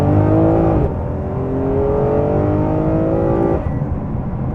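A Ferrari 599 GTO engine revs loud and close, its pitch climbing steadily in a long pull, easing briefly, then surging again before dropping off near the end.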